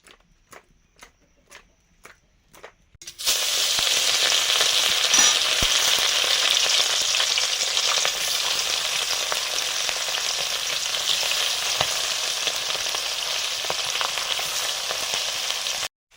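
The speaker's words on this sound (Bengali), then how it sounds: "মাছ ভাজবো।" Fish rubbed with salt, turmeric and chilli powder hits hot oil in a pan: a few soft ticks, then a sudden loud, steady sizzle that crackles on without letup.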